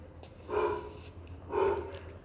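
Dogs barking in a street, two muffled barks about a second apart, moderately distant and fairly faint over a low background hum.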